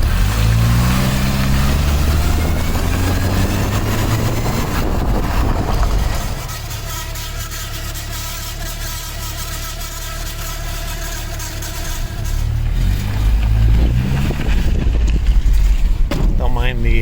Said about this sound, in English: Don't mind the little bit of exhaust rattle, but it is running perfectly now, shifting perfectly.